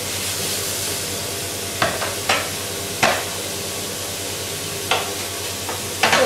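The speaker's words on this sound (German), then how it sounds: "jetzt lasst ihr das Ganze schön mit Anbrunst brutzeln" Onions fry in a pan with a continuous loud sizzle, broken by a handful of sharp clacks as a utensil stirs and scrapes against the pan at irregular moments.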